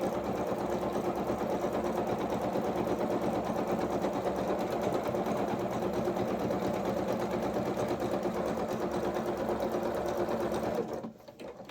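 A sewing machine runs steadily, stitching the underarm seam of small coveralls for a Luna Lapin rabbit doll, a continuous close whirring hum for about eleven seconds that stops abruptly near the end.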